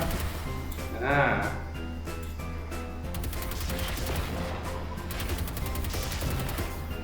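Gunfire from a player shooting robot dogs near a bunker in the video game Generation Zero, with repeated shots crackling through a steady game soundscape and a voice speaking over the action.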